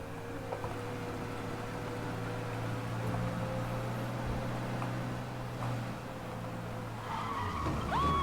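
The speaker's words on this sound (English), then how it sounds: "We lose them by driving real fast and getting clear of them." A car in Mafia Definitive Edition races away from police, its engine holding a steady, droning hum throughout, with rising tire squeals from a skid near the end.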